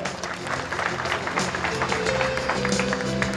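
Audience applause for the performers at the Karad Urban Bank centenary year celebration: a steady, full wash of many hands clapping together throughout, with some crowd murmur mixed in.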